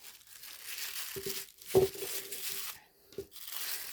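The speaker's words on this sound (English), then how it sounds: "we'll grab another piece of tissue paper" Tissue paper crinkles and tears in close bursts while painted rocks are wrapped for packing, with short rustles between quieter pauses and no talking.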